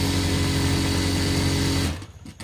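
A sewing machine stitches around the wrist of a handmade glove: a steady, close whirring motor hum that runs for about two seconds, then cuts off into near-silence.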